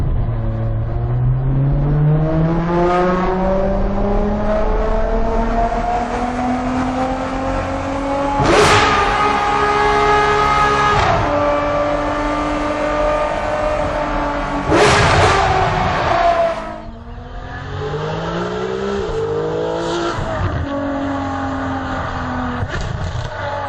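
A Ferrari 599 GTO engine revving hard through several rising gear pulls, each climb cut by a sharp shift, loud and close, then easing into a lower drone.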